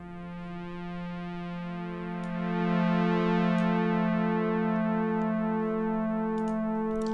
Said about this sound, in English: Nothing special, just a pulse width modulation sound.